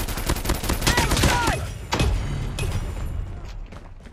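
Gunfire in the mobile shooter Call of Duty Mobile: rapid bursts of shots crackle densely through the first half, then thin into scattered, fainter reports, with a voice talking briefly over them.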